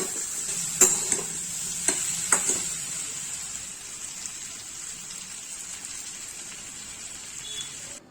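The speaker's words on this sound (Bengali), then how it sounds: "নুন আর চিনি দিয়ে এটাকে ভালো করে মিশিয়ে নেব" Chicken pieces for chilli chicken being stirred with salt and sugar in a hot pan: a few sharp utensil scrapes and knocks at first, then a steady, close sizzle continues alone.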